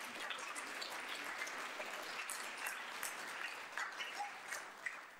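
A church congregation at a Salvation Army Sunday worship service claps in soft, steady applause that sounds somewhat distant, with no speech over it.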